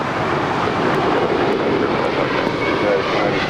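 Jet airplane taking off from runway 25 right at LAX, a loud, even engine roar lasting the whole stretch, broadband and continuous with no clear speech.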